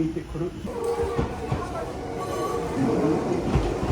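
A train rumbles into a station in Japan with rising wheel noise and faint squealing, while people chatter nearby.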